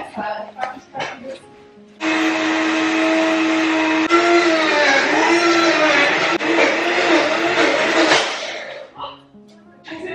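A kitchen blender runs at a loud, steady whine for about six seconds, its pitch wavering as the motor strains, then cuts off abruptly; voices chatter briefly before and after.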